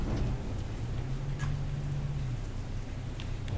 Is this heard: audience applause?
no